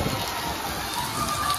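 Heavy monsoon rain, the season's first, pours down steadily in a constant broadband hiss with scattered drops striking nearby surfaces, loud and continuous with no talk.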